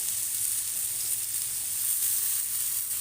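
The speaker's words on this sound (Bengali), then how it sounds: "গোটা ধনে গোটা জিরে দিয়ে দিলাম। একটু হালকাভাবে নাড়িয়ে নেব, এটাকেও ফ্রাই করে নিচ্ছি।" Whole coriander and cumin seeds sizzle steadily in hot oil in a pan, a continuous close bright crackling hiss with no talking, for a potato and soya chunk curry.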